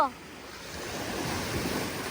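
Sea waves crash on a shore in a loud, continuous roar with wind noise on the microphone, after a brief clipped voice at the very start.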